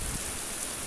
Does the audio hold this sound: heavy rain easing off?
yes